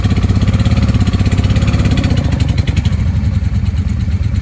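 A 1995 Honda Shadow VLX motorcycle engine with clogged carburetor main jets, running close and loud with an uneven, lumpy throb that sags and softens toward the end, no talk.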